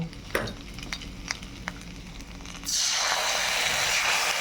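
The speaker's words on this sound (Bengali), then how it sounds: "তেলটাতে আমি মশলাটা আস্তে আস্তে করে কষিয়ে নেব" Spice paste of ground mustard, cumin and dried chili hits hot oil beside frying pomfret, bursting into a loud, steady sizzle after a quieter stretch of scattered kitchen clatter and stirring taps.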